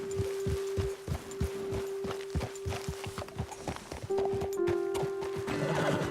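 Horses walking in Red Dead Redemption 2, a steady run of hoof clip-clops close by with a snort or whinny, plus a sustained tonal drone running underneath.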